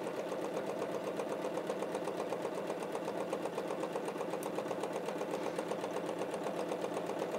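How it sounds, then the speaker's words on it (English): Sewing machine stitching quilt half square triangles, a close, steady rapid mechanical chatter running without pause throughout. "I'm going to sew down on either side of that line to create my half"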